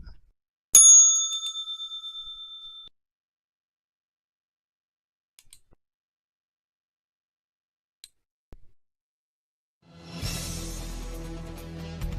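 A single bright bell strikes once and rings out with a long decaying tone, followed by a few faint ticks in near silence and a burst of broadband noise at the end.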